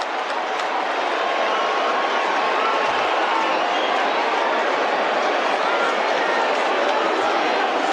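A dense stadium crowd at a 2023 AFL preliminary final between Brisbane and Carlton roaring for the Brisbane Lions key forward, a loud continuous wash of cheering with broadcast commentary on top.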